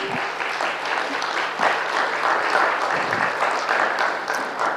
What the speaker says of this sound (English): Can we give them a hearty round of applause?